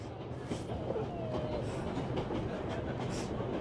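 A train in the video game 11-11 Memories Retold rolls steadily along its rails, a quiet low rumble with faint clatter and a brief thin wheel squeal, heard alone without talk.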